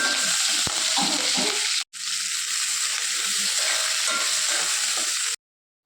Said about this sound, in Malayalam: ആ ചട്ടിനകത്ത് നിന്നേ കുറച്ച് ഓയിൽ അങ്ങോട്ട് മാറ്റിയിട്ട് ബാക്കിയുള്ളതിലോട്ട് നമുക്ക് ഇഞ്ചിയും വെളുത്തുള്ളിയും പച്ചമുളകും ഇടാം.